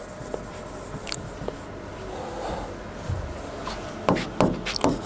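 Chalk or marker writing on a board during a physics lecture on electromagnetic induction, soft scratchy strokes and taps, with a few sharper quick marks near the end, close and alone.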